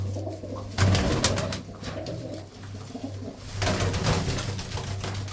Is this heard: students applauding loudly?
no